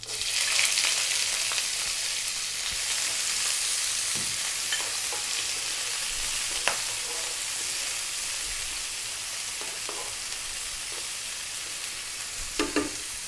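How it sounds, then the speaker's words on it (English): Onion frying in hot oil with black mustard and fennel seeds for a British Indian curry: a loud, even sizzle runs throughout, broken by occasional knocks and scrapes of a utensil, close up with no talking. "Then we're going to go in with our onion."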